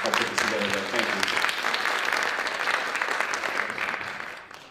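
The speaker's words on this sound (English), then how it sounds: "can we actually give a round of applause for everybody who helped put this together today?" A conference audience claps for the people who organized the event, a loud full round of applause that starts strong and gradually thins and fades over a few seconds.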